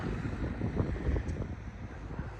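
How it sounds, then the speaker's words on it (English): Spring squall wind gusting in high mountain country during light snow flurries, a steady low rumbling rush buffeting the microphone with no talk. "A spring squall that we're having."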